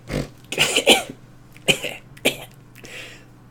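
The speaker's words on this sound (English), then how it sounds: "snickers and coughs to himself" A man coughs to himself in a few short, sharp bursts, close and fairly loud, with a quiet snicker mixed in and brief pauses between them.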